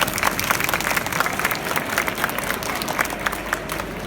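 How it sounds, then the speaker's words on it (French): An audience at a Q&A in Brussels claps for a small family, a steady patter of applause of moderate loudness running the whole time with faint voices mixed in. "On peut applaudir cette petite famille."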